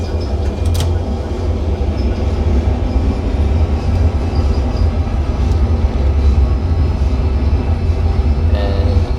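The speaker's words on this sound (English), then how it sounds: "Keep pulling it back. Reverse thrust as well." In a flight simulator game, a jet's engines roar under reverse thrust during landing rollout, a loud steady low rumble with a rattling, rolling texture that holds for about nine seconds without speech.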